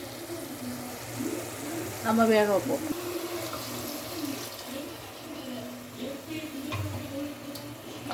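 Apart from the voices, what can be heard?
water being poured into a cooking pot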